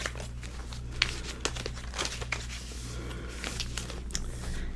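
Paper stickers from a sticker collection being handled and sorted, with continuous close crinkling, rustling and light crackling and a few sharper ticks. The sound is quiet and steady, with no voice.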